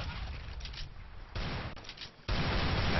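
Gunfire in a CS:GO esports showmatch, with dense, continuous bursts of shots that grow louder partway through, heard as a steady wash of game sound with no talking.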